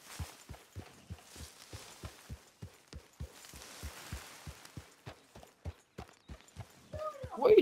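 Horse hooves clip-clop at a steady walking rhythm during a ride in the video game Red Dead, clear and evenly spaced, with a brief voice near the end.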